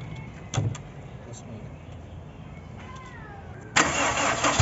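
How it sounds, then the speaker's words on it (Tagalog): A brief starter whir and clicks, then an engine catches and roars into a steady running sound near the end, close by. "bubuksan muna natin yung makina natin para bumaba yung tubig na nandito sa ibabaw"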